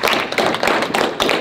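An audience at a campaign event for a US congressional candidate applauds, with a dense, continuous patter of many hands clapping nearby and several rhythmic surges through the burst.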